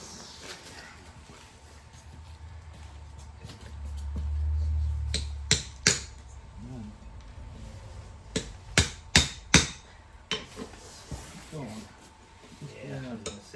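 A hammer strikes a u-joint on the axle of a 2010 Dodge Ram 3500 in a string of sharp metallic knocks, spaced irregularly then quickening, with a brief low rumble beforehand.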